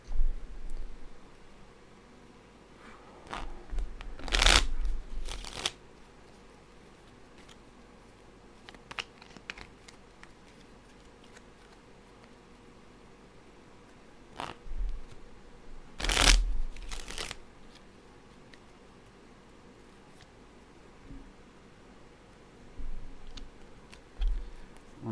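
A deck of cards shuffled by hand, with two loud riffle bursts about twelve seconds apart, each followed by a quick bridge-like flutter, and soft handling clicks and taps in the quieter stretches between.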